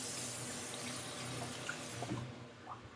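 Tomatoes washed under a running kitchen tap, a soft continuous hiss of water with small splashes and knocks toward the end.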